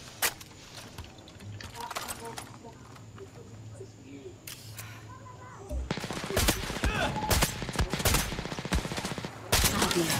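Gunfire in the co-op shooter Far Cry 6: scattered sharp shots early on, then dense rapid bursts through the second half, with players talking over the action.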